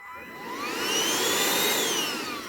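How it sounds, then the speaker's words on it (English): A Bissell Powerlifter ION Pet stick vacuum, detached and used as a handheld unit, runs steadily and loudly throughout. Its motor whine glides slowly up and back down in pitch, and no voices are heard. "you can have a handheld vacuum"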